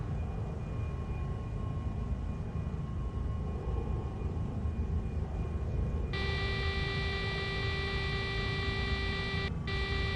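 A large airliner landing in the X-Plane 11 flight simulator gives a steady low engine rumble with a faint whine. Partway through, a sustained warning tone with layered pitches cuts in over the drone and briefly drops out near the end.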